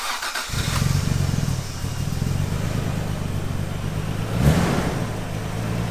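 A Toyota Supra rally car engine cranks and catches, then settles into a loud, steady idle with a brief rise in revs near the end, heard close up with no talking.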